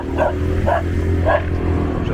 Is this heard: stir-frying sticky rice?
no